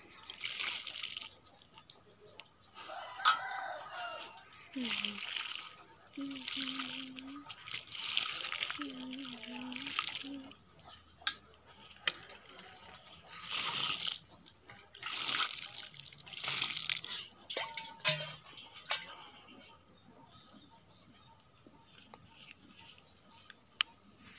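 Water running and splashing while a vegetable garden bed is watered, a steady wet rush through most of the clip with people talking over it at intervals.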